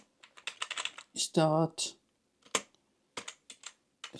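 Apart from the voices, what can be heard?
typing a terminal command on a computer keyboard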